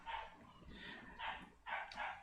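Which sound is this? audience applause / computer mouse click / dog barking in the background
dog barking in the background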